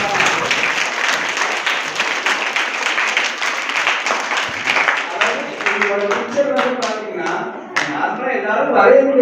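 An audience claps for two students, dense and sustained applause over a steady crowd clatter that thins toward the end, with voices mixed in.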